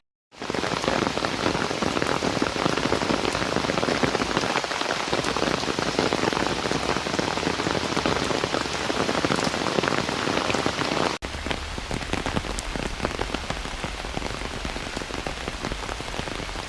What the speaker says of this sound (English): I'm not quite sure if I will do a walk in the park when it's raining like this.